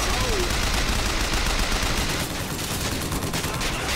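Dense, continuous gunfire from a weapon in the video game Bioshock Infinite, loud and rapid with no clear gaps between shots.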